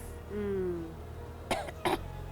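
Two short coughs in quick succession, close by, following a faint tonal hum in an otherwise quiet room.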